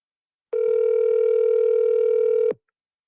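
A single telephone ring tone on an unanswered call: one steady, loud, even tone lasts about two seconds, then cuts off into silence.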